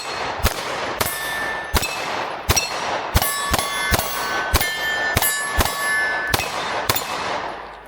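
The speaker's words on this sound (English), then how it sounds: "let's shoot it again and see" A Shield Plus pistol fires about a dozen sharp, evenly spaced shots outdoors, each crack followed by a bright metallic ring that fades quickly.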